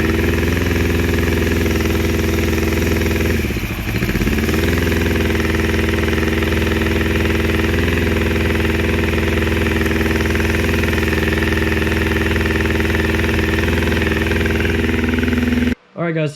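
A motorcycle engine idles steadily and close, running rough with one cylinder not firing, a continuous uneven thrum with a brief dip partway through while someone talks over it.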